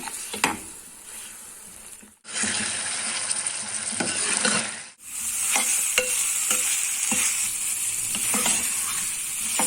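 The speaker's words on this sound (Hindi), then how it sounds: "जब तक इसका पानी नहीं खुश होता हम इसे भूनेंगे।" Yogurt-coated mutton frying for dahi gosht, with a continuous sizzle and frequent scraping stirs. The sizzle swells louder for a few seconds in the middle, then settles back. No one talks.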